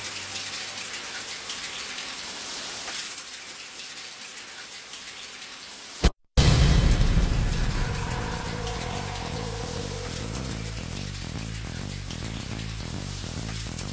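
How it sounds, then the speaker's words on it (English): Shower running in the Deadly Premonition video game, a steady spray of water like rain that drops out briefly, then returns louder and keeps hissing evenly alone. "Can you hear that? Is it rain? No, it's the shower."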